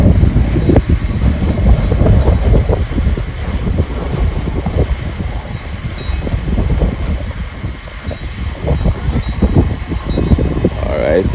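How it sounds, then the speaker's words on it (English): Small kids' ride train at a farm attraction in Spanish Town, a continuous rumbling, rattling mechanical run with steady clatter close by, and people's voices mixed in. "Alright, people say this is the train. Choo choo."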